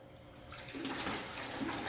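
Aquarium siphon pulling water out of a tank during a water change: a faint airy hiss at first, then a steady gurgling, rushing suck of water that holds at an even level.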